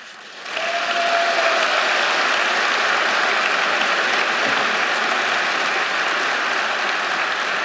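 Sustained applause from a party congress audience in a large hall, a dense, steady roar of clapping swelling in after a brief quiet start and holding evenly throughout.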